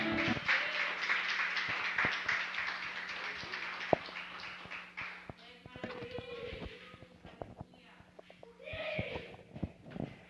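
Church congregation applauding together, a dense wash of clapping that swells and fades, with a voice speaking partway through and over the tail.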